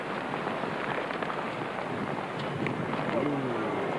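Wind buffeting outdoors at a pétanque game in Marseille, a steady broadband rush and rumble against the microphone filling the whole stretch, with faint voices underneath.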